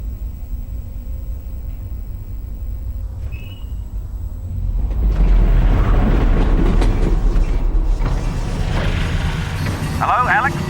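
A train in the Half-Life: Alyx virtual reality game starts with a quiet hum, then swells into loud rumbling and rattling clatter with metallic squeals near the end.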